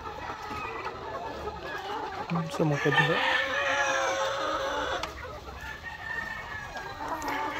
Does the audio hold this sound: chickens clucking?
yes